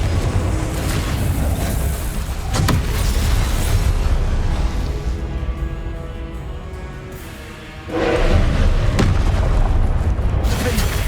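Confringo spell explosions in the video game Hogwarts Legacy: heavy booming blasts, two standing out sharply, over a loud, dense layer of combat noise that dips and then surges back.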